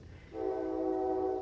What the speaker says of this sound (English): sorry about the train, didn't know it was coming through.